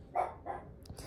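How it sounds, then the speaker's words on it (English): A dog barks twice in short, fairly close bursts, the second softer than the first, with no talking. "She's barking even more times."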